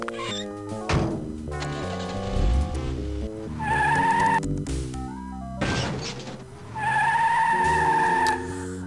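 A car in the point-and-click adventure game Sam & Max Hit the Road pulls away with skidding, squealing tires, loud engine bursts rising over tonal game music that swells and drops twice.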